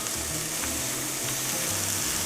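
Button mushrooms frying in a pan give a steady, dense hiss and sizzle throughout, close up, with faint low murmuring voice tones underneath.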